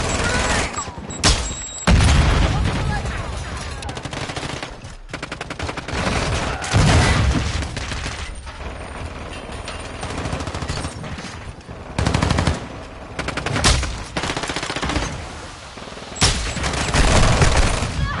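Intense gunfire in the Modern Warfare 2 video game: loud automatic bursts and single shots crack and rattle nearly nonstop, with heavy booming blasts mixed in throughout.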